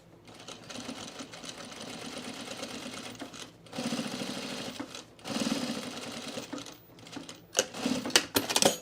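Sewing machine stitching and back stitching on cargo shorts, a steady mechanical whir in bursts with brief pauses and a few quick rattling stops near the end, close and fairly loud with no talking.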